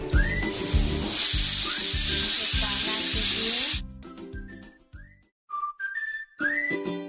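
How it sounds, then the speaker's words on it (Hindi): Pressure cooker on a gas stove at medium flame, boiling corn, lets out a loud steady hissing whistle for several seconds, then the steam cuts off, leaving a few short, quieter whistle-like tones. "गैस को मीडियम फ्लेम पर रखेंगे और दो सीटी लगने देंगे।"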